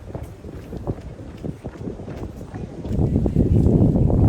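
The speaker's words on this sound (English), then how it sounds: "It's starting to get very windy here" Gusts of wind buffet a phone's microphones outdoors during a short jog, producing rough low rumbling that swells louder and denser toward the end.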